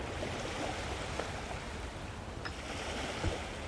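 Water in the physics puzzle game Human: Fall Flat, a steady broadband rush of splashing and flowing water with a few faint knocks, continuous and moderately quiet throughout.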